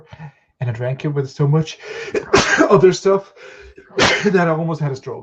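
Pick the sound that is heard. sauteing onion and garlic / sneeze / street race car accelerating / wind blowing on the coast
sneeze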